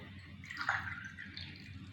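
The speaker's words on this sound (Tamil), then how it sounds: "ஒரு 1/2 டம்ளர் தண்ணி ஊற்றுறேன்." A short pour of water into churned curd for Kerala-style moru kuzhambu gives a faint, brief splash and trickle at close range, followed by a softer second splash over a quiet room.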